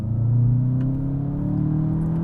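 Manual 2024 VW Jetta GLI 40th anniversary edition under launch control acceleration, a steady close engine drone climbing gradually in pitch, heard alone without talk.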